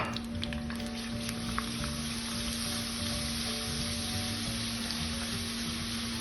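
White parts of green onion fry in hot oil with a constant crackling sizzle and a few small pops at the start, steady and close throughout.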